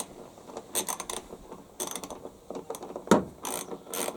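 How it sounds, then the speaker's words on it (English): A 13mm socket ratchet tightening a wheel nut on a HYM510SPE mower, several close bursts of quick clicking pawl ratchets with short pauses between strokes, no talk. "Tighten up the wheel nut."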